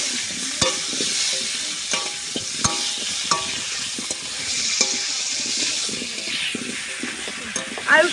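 Potatoes fry in a pan for khichuri, a steady sizzle broken by repeated clicks and scrapes of a spatula against the pan, with faint background voices.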